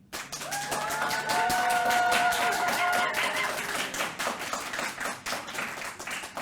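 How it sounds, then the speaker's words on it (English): An audience applauds in a steady, dense wash of clapping at an annual April Fools' debate, voting for the eagle, with a few whistles and cheers in the crowd and no talking over it. "By applause, who favors the eagle?"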